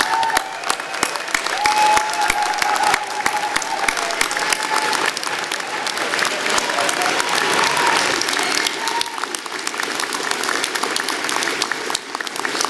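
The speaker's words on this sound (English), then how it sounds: "Let's give them a huge round of applause." A large audience at a university convocation ceremony for applied science graduates breaks into sustained, loud applause, a dense roar of clapping with some cheering and whistle-like calls woven through for over twelve seconds.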